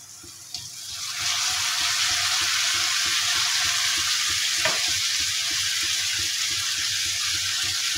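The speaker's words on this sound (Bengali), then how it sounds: "আমি ধুয়ে রাখা করলাগুলো দিয়ে দিচ্ছি।" Washed bitter gourd slid into a pan of oil with spices and garlic paste, a quiet start followed by a sudden loud, sustained hiss of frying that holds steady, with one brief utensil knock.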